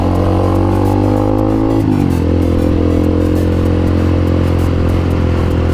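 A Honda CBR 150R motorcycle engine idles loud and close in a Jakarta traffic jam, its steady hum dropping in pitch partway through as it slows, with surrounding traffic noise.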